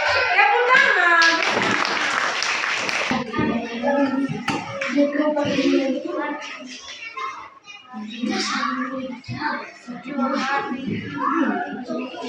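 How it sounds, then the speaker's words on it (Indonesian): Children in a classroom clap their hands together in a dense burst of applause during a learning game. The clapping fades into lively children's chatter and scattered taps. "Oke, tepuk tangan."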